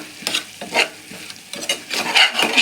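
Onion, tomato, ginger and garlic sauté in a pan while being stirred, producing close scraping stirs over a soft sizzle in uneven strokes, with no voices.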